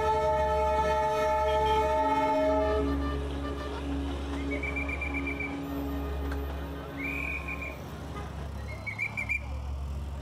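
Himalayan toy train of the Darjeeling line creeping slowly through a village: a low steady rumble with a long whistle tone, then several short shrill whistles or horn toots further off.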